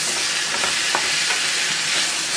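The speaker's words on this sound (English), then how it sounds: "we just want to go ahead on and stir" Ingredients seasoned with crushed red pepper sizzling as they are stirred and sautéed in a pan for a budget meal, a loud steady hiss with soft scraping strokes of the spoon, no talking.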